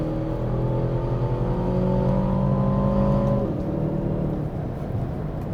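A $370,000 truck's engine drones and revs steadily at speed on the Las Vegas F1 track, a loud, close hum that drops in pitch as the driver shifts, with no talk.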